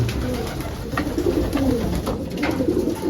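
Racing pigeons coo repeatedly in soft, low, throaty calls, several birds overlapping close by at a loft against a steady background murmur.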